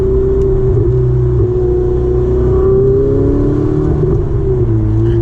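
A Ferrari 488 Spider accelerates hard on a public road, its engine a steady, loud drone with a rising whir and low rumble heard from inside the car, no talk over it.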